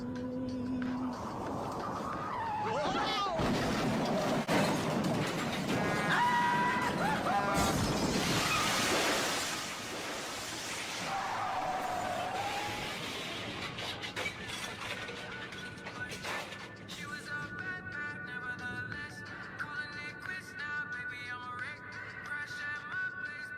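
A staged car crash for Goofy plays out with mechanical rattling, scraping and a crashing impact, then music, all fairly quiet and muffled over twenty-odd seconds.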